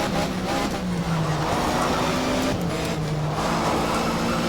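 A Porsche race car's engine in the Race 07 game roars at high revs on the Jyllandsringen circuit and steps through several gear changes. The tone is loud and close and stays continuous throughout, with no talking over it.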